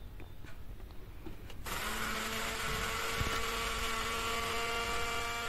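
An electric blender whirs on after a quiet moment, its motor running at a steady, loud, high-pitched whine while it purees a homemade carob drink, holding the same pitch without a break to the end.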